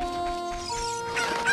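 Chickens cluck in a town in The Legend of Zelda: Ocarina of Time, a few clipped calls near and fairly loud over steady background game music, with no talking.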